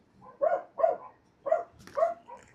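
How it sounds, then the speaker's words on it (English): Four distinct dog barks, fairly close and moderately loud, spaced about half a second apart, with quiet gaps between them. "sorry if you hear my neighbor's dogs barking"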